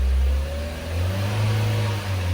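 A Chevrolet Trax engine, brought in not running with an engine fault, now runs after repair, idling loud and close with a steady low hum and a slight rise in revs.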